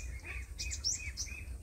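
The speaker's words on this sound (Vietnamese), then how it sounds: "Con chuyền bỏ cám là cái con mà cần đánh ở đằng xa đó nè." A caged sunbird outdoors calls in the distance, giving a few faint, thin high chirps spaced irregularly over a low background rumble.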